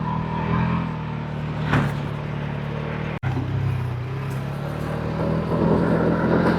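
Vehicle driving across sand in the Thar desert, a continuous loud engine drone and wind rumble from inside the cab, with a brief knock partway through and rising hiss near the end.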